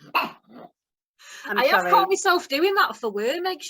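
A pet dog gives short barks and high whimpers at home, mixed in with people chatting nearby.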